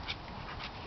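A dog at a fence whimpers softly in two brief, thin whines amid a dull steady background.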